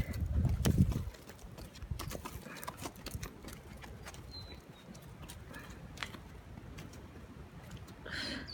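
Small horses moving about outdoors on a very windy day, with a burst of close hoof clatter at the start, then scattered soft hoof steps and shuffling over steady wind rumble.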